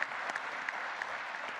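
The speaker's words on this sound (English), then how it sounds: "May we please give him a round of applause" Audience applause at the opening of an industrialization conference and expo in Zimbabwe, a brief, dense burst of steady clapping from a crowd.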